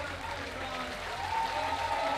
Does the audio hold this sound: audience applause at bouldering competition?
yes